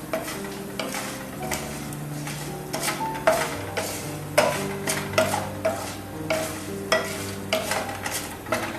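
Urad dal fries in hot ghee with cumin, giving a steady soft sizzle broken by regular scraping strokes of a spoon stirring the pan, with no one speaking.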